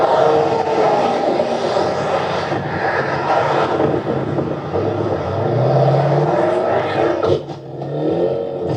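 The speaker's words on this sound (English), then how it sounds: "That sounds like a RT Hemi to me." Loud, steady engine roar from what may be a Dodge Charger R/T Hemi during a police chase, with the revving swelling and dipping over its whole length and no talking over it.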